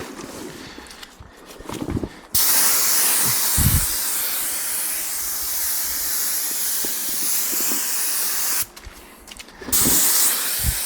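An air-powered sprayer hisses loudly and steadily as it coats outdoor furniture with UV treatment, one long spray burst between quieter handling noises and a second burst starting near the end, with no talking.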